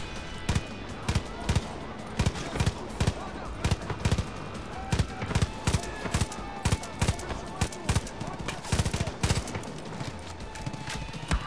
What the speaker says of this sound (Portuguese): vocês viram o tiro que ele deu ali?